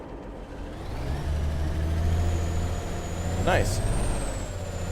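A truck engine idles with a steady low rumble in the video game Alaskan Truck Simulator, then a brief hissing burst of an air brake cuts in; a voice speaks briefly.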